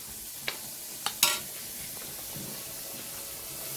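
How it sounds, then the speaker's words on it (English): Fish sizzles steadily in hot oil, with a few sharp utensil clinks near the start. "And these guys are frying fish."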